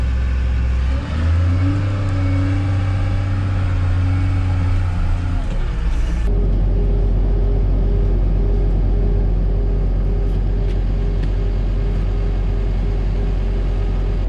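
New Holland wheel loader engine running, a heavy low rumble that revs up, drops abruptly, then settles into a steady idle drone close by, with no talk.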